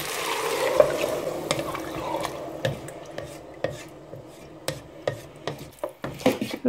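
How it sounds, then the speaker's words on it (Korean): Water pours steadily into a pot for broccoli cream soup in a home kitchen, a continuous splashing rush with a few sharp clinks and knocks, close and moderately loud, no talking. "물을 붓겠습니다."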